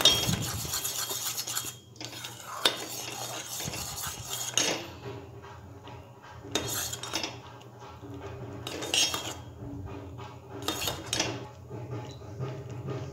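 A spoon stirs white pizza sauce with chili flakes in a metal pan, scraping and clinking in repeated bursts with short pauses between, close and fairly loud.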